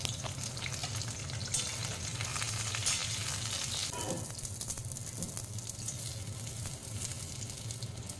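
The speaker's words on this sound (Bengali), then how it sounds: "এবার আমি বেগুনগুলি ওই তেলেতেই দিয়ে দেব ভাজার জন্য।" Eggplant pieces frying in the same hot oil just used for beans, for shukto: a continuous, moderately quiet sizzle with a brief clatter midway, and no talking.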